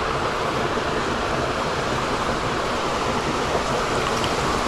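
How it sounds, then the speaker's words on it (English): Water pouring over a weir on the upper River Thames near Ashton Keynes, a steady, loud, broadband rushing roar with no breaks or speech. "I suspect there might be some kind of weir or something that drops down into the village"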